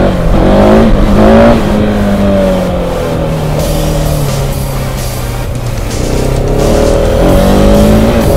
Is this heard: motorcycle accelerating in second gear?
yes